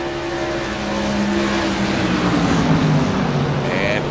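CRA modified race cars roar past at New Hampshire Speedway, loud sustained engine drone with shifting pitch as the pack passes through a turn, close and continuous without talk.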